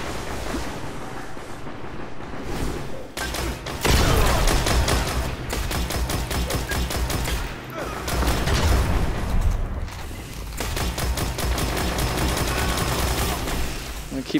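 Dense, sustained gunfire from a Destiny PvP Control match, loud and continuous with rapid bursts and repeated shots over in-game clatter and ambient noise, no clear pauses throughout.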